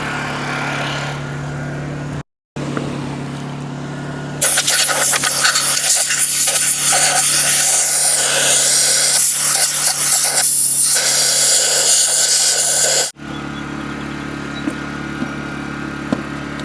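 Compressed air blasting through a lawn mower air filter, a loud, steady broadband rush lasting several seconds before cutting off, with a quieter machine hum before and after.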